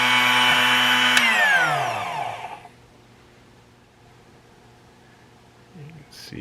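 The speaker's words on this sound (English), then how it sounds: "definitely caught that drill bit, gave it a nice grind, nice shine on the end, sharpened up the edges" A Drill Doctor XPK sharpener grinds a drill bit with a loud, close motor whine that drops in pitch and then stops. A short stretch of quiet follows, then a brief rattle.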